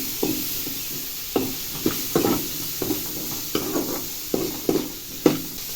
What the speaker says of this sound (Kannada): ಪನ್ನೀರ್ ಒಂದು 5 ನಿಮಿಷ ಫ್ರೈ ಮಾಡ್ಕೋಬೇಕು.